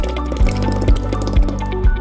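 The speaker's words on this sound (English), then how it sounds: "Okay, so I'm gonna go ahead and pour it in there" Thick banana nut mixture being poured into a pot, with soft, wet glops and drips landing in a steady stream, punctuated by a few heavier plops at regular intervals, close and moderately loud.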